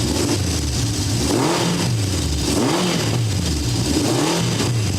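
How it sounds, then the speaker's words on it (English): A 1970 Honda CB750 inline-four motorcycle engine runs close and loud, its revs rising and falling in repeated swells over a constant, dense mechanical roar. "This is my 1970 750 Honda. I've had it for many, many years now. I'm going to start it up for you."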